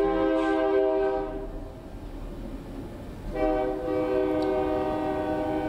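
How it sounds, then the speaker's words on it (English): A train passes near a stage at an evening event, a steady low rumble with a long sustained horn blast that fades midway and then returns strongly, heard alone without speech. "the train is always a blessing for people on stage."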